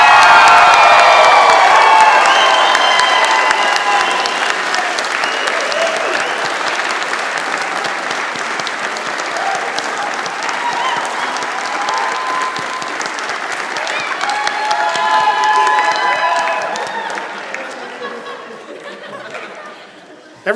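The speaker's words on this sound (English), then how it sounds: "give a round of applause to our graduating class" Sustained loud applause with cheering and crowd chatter from faculty, family and friends for the graduating class of 2018 at a spring convocation ceremony, swelling again near the end before fading.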